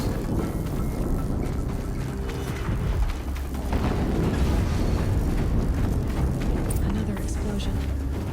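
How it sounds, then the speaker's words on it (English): Explosion in Horizon Zero Dawn heard as a dense, rumbling roar that lasts throughout at steady loudness, with game voices speaking over it. "Another explosion."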